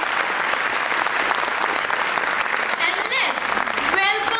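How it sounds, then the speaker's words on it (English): Parents at a kindergarten class presentation give steady applause, with a voice and a few shouts rising over the clapping near the end. "please encourage them with a huge round of applause"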